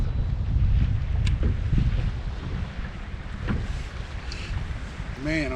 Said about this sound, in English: it's windy out here, so I don't know if you can hear me much